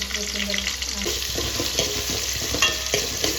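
Chopped onions and tomato fry in a pan for egg noodles, with a steady close sizzle under repeated spatula stirring and scraping strokes, and no voices.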